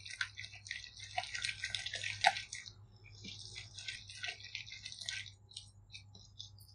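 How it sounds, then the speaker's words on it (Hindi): Wheat flour pancake batter being stirred continuously with water: soft, quiet, wet squelching and sloshing in an irregular rhythm, heard alone. "इसको हम इस तरह से लगातार चलाते हुए मिक्स करेंगे आटे में कोई लम्ब नहीं रहने चाहिए"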